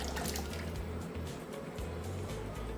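Biryani rice boiling in a large bulk-cooking pot as a tablespoon of ghee goes in, giving a steady loud bubbling and rolling churn of water throughout.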